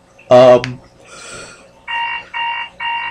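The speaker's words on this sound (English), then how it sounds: "sorry about that, that's my alarm going off." A loud burst of voice gives way to a repeating electronic alarm beeping in three evenly spaced pulses, clear and close.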